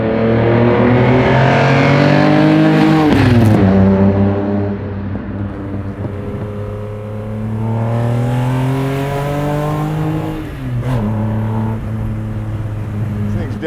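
A custom 1974 Datsun Fairlady 260Z sports car with a stroked engine revs hard through the gears, pitch climbing then dropping at each shift, loud and close, with a brief lull midway.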